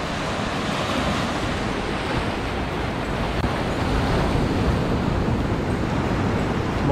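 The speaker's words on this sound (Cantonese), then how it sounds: "慢慢聽海嘅海浪聲" Steady, continuous roar of sea waves breaking on the coral reef rock platform at Chaikou on Green Island, Taitung, loud and close with wind buffeting the microphone throughout.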